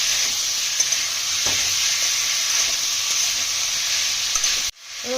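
Potatoes and tomatoes fry in a pan for a vegetable curry, a steady loud sizzle running throughout with faint stirring scrapes, then cutting off abruptly near the end.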